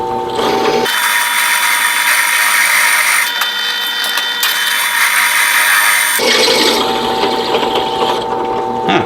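A power drill with a cobalt bit grinds steadily through trailer metal in a loud, continuous whine, pausing briefly once before resuming with a harsher buzzing tone.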